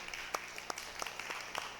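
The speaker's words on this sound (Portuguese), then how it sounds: "Vamos aplaudir ao Senhor?" A church congregation applauding: scattered hand claps in a steady, uneven patter within a reverberant hall, moderately close, with no speech over them.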